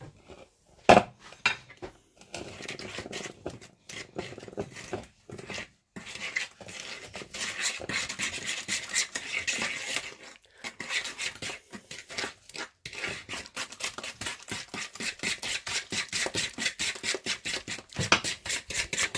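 Spoon or whisk scraping and knocking in a bowl as egg is mixed into iced Christmas biscuit dough, steady clattering strokes growing busier and louder, close and alone without talk.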